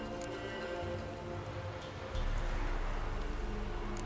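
Rain in The Witcher 3: Wild Hunt, a soft, steady hiss of falling rain under a low ambient hum that grows louder partway through, with no talking.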